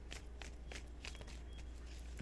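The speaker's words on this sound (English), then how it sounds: "Get a good shuffle." Tarot cards shuffled by hand in a run of soft, rapid papery riffles and taps, close and fairly quiet over a low steady hum, with no talking.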